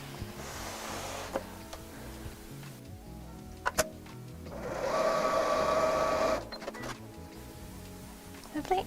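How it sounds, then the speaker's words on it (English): A sewing machine runs in one steady burst of a few seconds, sewing shut the opening in a tote bag's lining. Brief handling clicks and rustles come before and after the stitching. "So now we'll sew that hole closed."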